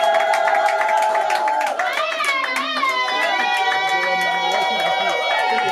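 A crowd at a dowry ceremony cheers and ululates in long, wavering high-pitched calls, loud and close, with shouting and children's voices mixed in.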